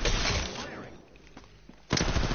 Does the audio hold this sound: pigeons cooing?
no